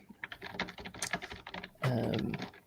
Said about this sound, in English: Somebody's typing awkwardly.